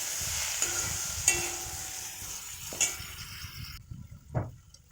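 A spoon stirs chili powder and turmeric into an okra and tomato buttermilk curry in a pan, soft sizzling under a few sharp metallic clinks and scrapes, ending with quiet.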